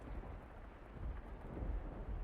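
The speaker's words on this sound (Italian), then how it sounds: "Il suono della pioggia battente soffocava tutto il resto." Heavy pounding rain pours in a dense, low, continuous roar with rumbling swells like distant thunder, heard alone as a sound effect at moderate volume.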